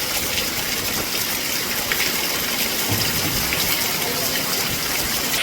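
A hailstorm with strong wind in Latur district, a dense, continuous roar of hail and rain pelting surfaces, loud and unbroken, with no clear voices.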